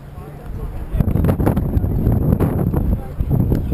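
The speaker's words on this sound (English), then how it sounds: "Windy." Gusty wind buffeting the microphone outdoors at a sparring event, a loud rumbling roar with scattered knocks and thumps, while people talk nearby.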